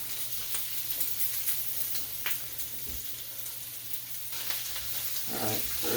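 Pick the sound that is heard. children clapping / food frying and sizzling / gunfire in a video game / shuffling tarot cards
food frying and sizzling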